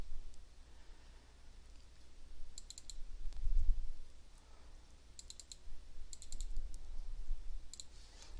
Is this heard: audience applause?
no